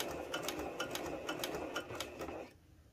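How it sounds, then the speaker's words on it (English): A Janome HD9 sewing machine backstitching through thick layers of fabric, giving a steady, fast mechanical stitching rhythm that runs for about two and a half seconds and then stops abruptly. "Let's backstitch."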